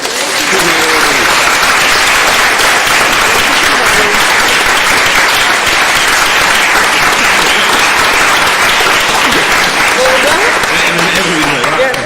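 Sustained applause from a crowd, a dense steady patter of many hands clapping at once, loud and unbroken for the whole stretch.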